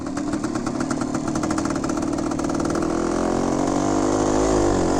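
The engine of a 1975 Suzuki RV125 Tracker motorcycle runs steadily at close range, a buzzing two-stroke note that holds level and then shifts slightly in pitch near the end. The sound is loud and alone.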